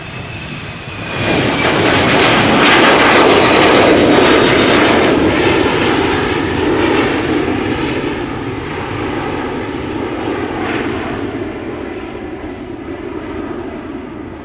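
A KLM Embraer 190 jet airliner bound for Ibiza takes off at Schiphol's Polderbaan, a loud close roar erupting after a second with a high whine, then slowly receding and thinning while staying audible throughout.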